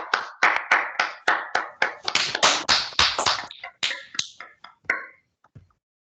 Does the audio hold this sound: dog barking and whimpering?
no